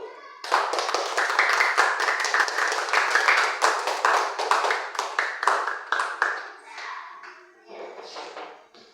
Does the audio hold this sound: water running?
no